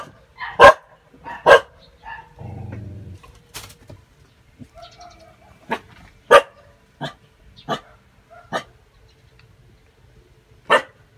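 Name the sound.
guard dog barking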